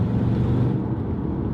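A Mercedes SL55 AMG V8 with an exhaust leak, a steady low rumbling drone heard up close and loud, with no talking.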